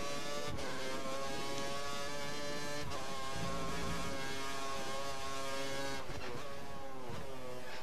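A race car engine in F1 2013 accelerates under sustained high-pitched whine with rising and falling rev harmonics, loud and continuous throughout.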